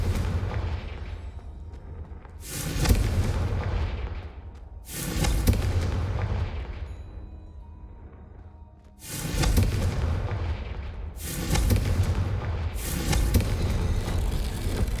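Confringo spell explosions in the video game Hogwarts Legacy, four heavy booming blasts at uneven intervals, each with a long rumbling decay, loud and with no talk between them.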